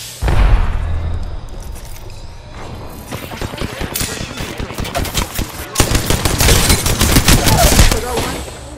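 Loud, rapid automatic gunfire bursts in the Apex Legends video game, with dense rattling volleys and mechanical clicks building through most of the stretch.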